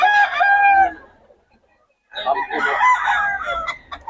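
Chickens and roosters at a market: a loud, close rooster crow, a brief lull, then a busy burst of clucking and crowing from several birds, with a voice faintly mixed in.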